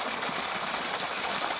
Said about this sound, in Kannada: ನೀರು ಬರ್ತಾ ಇದೆ.